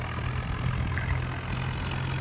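A tractor engine hauls a loaded trolley on a sloping road, a steady low diesel drone with a throbbing hum running continuously up close.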